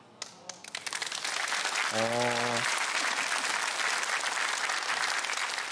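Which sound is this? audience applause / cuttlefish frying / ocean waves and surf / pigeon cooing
audience applause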